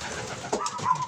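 Pigeons coo softly nearby in a flight loft, low throaty warbling calls repeating in an enclosed space with faint background rustle.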